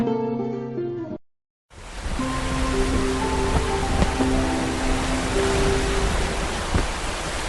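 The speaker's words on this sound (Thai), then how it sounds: "ฝนตกหนักมากเลย" Heavy rain pours down as a dense, steady hiss, loud and continuous after a short musical jingle and a brief silence, with faint tonal sounds mixed in.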